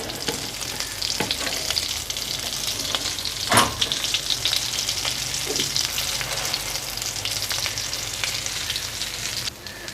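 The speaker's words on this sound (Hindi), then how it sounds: "सुनहरा होने तक इसको फ्राई कर दें।" Shami kebabs made of spiced mince and lentils fry in a pan, giving a steady close sizzle with crackling pops and a brief louder burst partway through, no voices.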